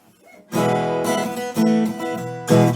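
Bright guitar chords strummed with a pick, several strokes in a loose rhythm, close and clear with no talking.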